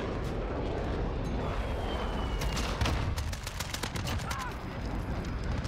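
Rapid gunfire bursts from a Modern Warfare match, a series of sharp shots clustered in the middle over constant game noise and background sound.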